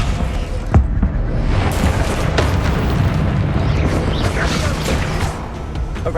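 A Descendo spell slams an enemy to the ground in Hogwarts Legacy, a heavy booming crash over a dense, continuous rumble of game combat effects, with a few sharp impacts scattered through.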